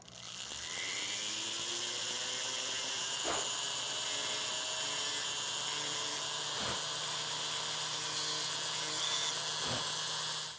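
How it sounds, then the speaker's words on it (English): A rotary tool runs continuously with a high, steady whine while grinding a 3D-printed lightsaber part, with a few brief sharper bursts as the bit bites into the plastic. "I'm using the rotary tool to grind that out so it's not shiny anymore."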